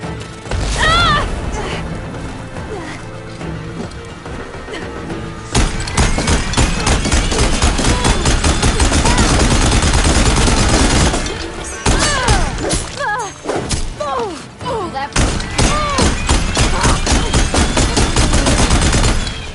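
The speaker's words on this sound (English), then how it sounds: "Shooting out ammo." Gunfire in the video game Horizon Forbidden West, loud dense bursts of shots and thuds with booming impacts, pausing briefly before resuming in rapid volleys.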